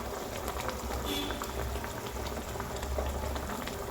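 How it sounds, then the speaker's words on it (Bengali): Doi katla fish curry gravy with ghee and garam masala bubbles steadily in the pan, a close, continuous simmering burble with faint pops and no pause. "এবার এটা একটু ঝোলটা শুকিয়ে যাবে, তারপরে এটা ঝোল মরে গেলে নামিয়ে দেব।"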